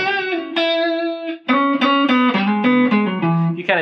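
An electric guitar with effects sounds a held note, then a run of distinct single notes stepping downward over a sustained chord, clear and close.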